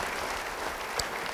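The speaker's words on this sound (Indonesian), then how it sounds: "Beri tepuk tangan bagi dia." Audience applause at a church service led by a preacher, a steady wash of clapping through the whole short stretch with one slightly sharper clap near the end, no voices over it.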